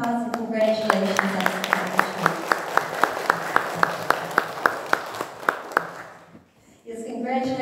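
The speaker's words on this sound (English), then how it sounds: "So I hope you can all give him a round of applause and congratulations." Audience applause at a church worship service for Edward's college convocation: a steady, evenly spaced run of claps, fairly loud and close, with talking just before and after.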